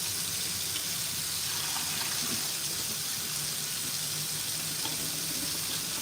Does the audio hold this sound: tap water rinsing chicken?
yes